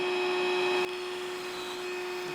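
A power drill bores holes in deck boards during a deck build, giving a steady high motor whine with a brief shift in pitch as the bit bites, loud and close with no talk.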